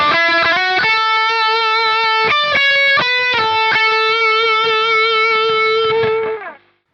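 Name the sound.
electric lead guitar through Scaline Pure Sky Overdrive pedal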